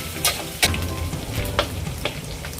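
Garlic and shrimp stir-fry in hot oil in a wok, a steady close sizzle broken by sharp scraping strokes of the spatula at irregular moments.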